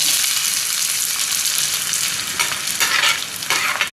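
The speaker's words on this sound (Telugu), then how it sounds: "ఇప్పుడు ఉల్లిపాయలు వేసుకుంటున్నాం కదా" Onions frying in hot oil for mutton keema, a loud, dense, continuous sizzle close up, with occasional stirring scrapes and spitting bursts toward the end and no talk.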